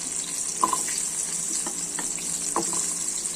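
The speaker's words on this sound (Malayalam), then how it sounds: "ഇനി നമുക്കിതിനകത്തോട്ട് ഈ ഉള്ളിയും ഒക്കെ ഒന്ന് വാട്ടിയെടുക്കാം" Onions sauté in oil left over from frying papad, for a papad chutney; a continuous close sizzle carries occasional small clicks from stirring, and no one speaks.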